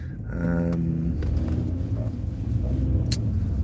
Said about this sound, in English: moving in traffic now